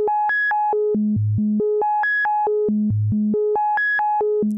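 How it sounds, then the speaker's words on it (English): A modular synthesizer sine wave patch steps through octave intervals, a clean pure tone climbing and falling in a repeating stair-step melody, loud and steady with no voices. "now we're just hearing a nice sine wave in octave intervals thanks to step 8 and route 4"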